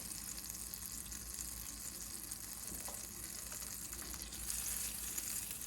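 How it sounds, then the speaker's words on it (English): Butter melting in a small Dutch oven gives a faint, even sizzle with light crackle, quiet and continuous against a low background hum, without speech. "Let that butter melt around."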